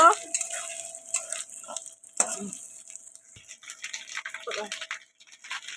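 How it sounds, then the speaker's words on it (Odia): Panch phoron, a five-spice mix, splutters in hot oil with scattered crisp pops and crackles. A voice speaks intermittently over the frying. "5 ଫୁଟଣ ଫୁଟୁଛି।"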